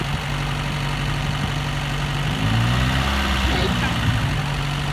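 A Renault car engine runs at a steady idle with a low, continuous hum, its pitch rising and wavering partway through, while voices talk over it.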